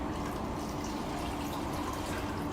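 Water being poured out of a container, a quiet, steady trickling and splashing that runs throughout the short stretch with no talk over it.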